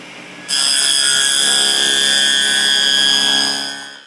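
A wood test piece is pushed through a wobble wheel dado blade on a saw, giving a loud, steady whining cut that starts abruptly and holds for a few seconds before fading as the blade clears the workpiece.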